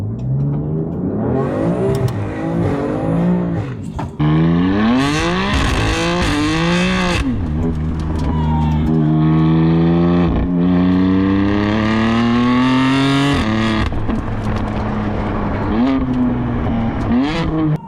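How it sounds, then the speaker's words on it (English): A BMW F80 M3 fitted with a Scorpion exhaust revs hard through repeated climbs and drops in pitch, loud and close, with a sustained high-rev stretch and a sharp cut back to idle, no talk over it. "We'll give it some revs."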